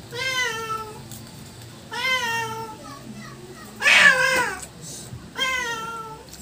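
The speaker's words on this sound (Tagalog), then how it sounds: "Pusa!" A cat meows again and again, with several drawn-out harmonic cries spaced a second or two apart. Chatter and a higher shout cut in among them during a noodle meal at home.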